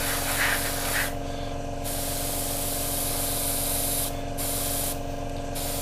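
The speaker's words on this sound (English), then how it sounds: "you can probably hear the airbrush pick up the pace" Airbrush spraying paint onto a Hasegawa 1/48 Draken scale model, a steady close hiss that cuts in and out in bursts as the trigger is pulled, over a constant low hum, no talk.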